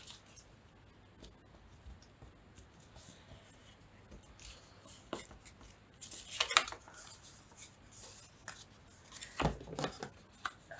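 Scissors snip away the corner bits of a paper pocket for a junk journal: quiet, scattered cutting clicks that cluster into a few brief, louder bursts of snipping partway through.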